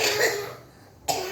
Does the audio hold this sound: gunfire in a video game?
no